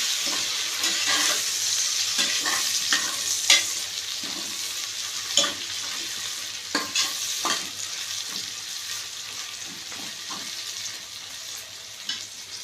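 Mint leaves sauté in hot oil in a pan for chicken biryani, a steady close sizzle broken by scattered spoon scrapes and stirring knocks, with no talking.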